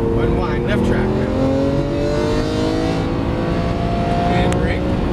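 A Lamborghini Aventador LP700-4 accelerates on a track, its loud, continuous engine drone climbing steadily in pitch, with a voice talking over it.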